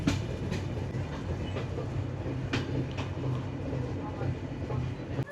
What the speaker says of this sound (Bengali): আর আমাদের ট্রেন চলে এলো কাশিয়ানি জংশনে